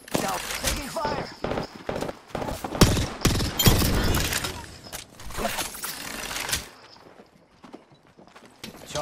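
Rapid bursts of gunfire from Apex Legends crackle loudly for several seconds, mixed with footsteps and game effects and a voice calling out, before fading to a quieter stretch.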